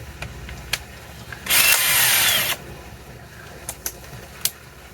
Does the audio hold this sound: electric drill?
yes